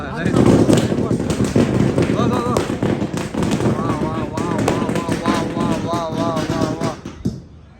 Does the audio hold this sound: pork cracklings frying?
no